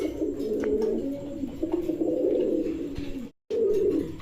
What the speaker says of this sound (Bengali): এখানে একজোড়া বোম্বাই কবুতর দেখতে পাচ্ছেন।